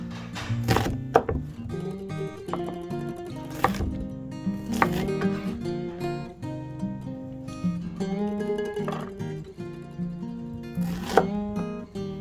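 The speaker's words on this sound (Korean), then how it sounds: "당근과 양파 모두 샐러리와 비슷한 크기로 썰어주시면 된답니다" A knife chops carrots and onions into dice on a cutting board, sharp irregular thunks spaced a few seconds apart, close up, over soft music-like tones and no voices.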